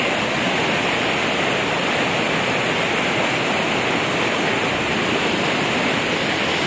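Aliwagwag Falls roars in a loud, continuous, even rush of falling water that fills the whole stretch without a break or any voices.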